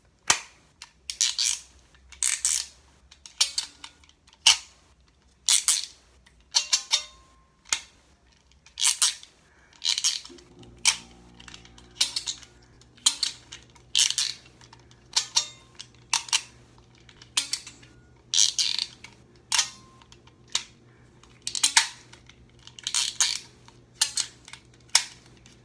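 A McDonald's Bop It toy gives a long series of sharp plastic clicks and snaps as it is pulled and bopped, roughly one per second, with a faint electronic hum entering partway through; no talk.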